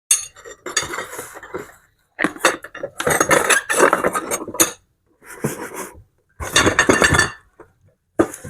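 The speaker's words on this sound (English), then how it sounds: "Be really careful when you're dealing with broken glass, guys." Broken glass shards drop into an old box, making a run of bright clinks and clattering rattles in several bursts with short silent gaps between them.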